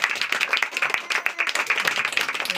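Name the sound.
audience clapping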